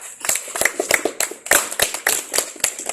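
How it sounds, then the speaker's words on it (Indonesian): A small group claps hands in a classroom-style session, sharp irregular claps in a quick uneven rhythm for a few seconds, close and fairly clear with no talk over it. "Tepuk tangan buat saya."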